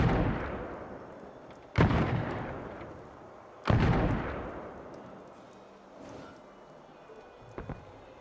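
Two loud, close gunshots fired from a gun, spaced about two seconds apart, each followed by a long decaying echo, then fainter thuds and small clicks.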